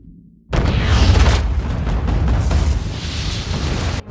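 A bomb planted on a riverbank explodes in a film scene: after a brief quiet lead-in, a sudden loud boom that rolls into a sustained, heavy roar lasting several seconds before cutting off.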